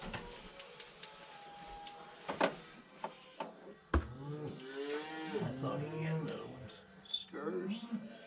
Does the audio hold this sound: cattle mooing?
yes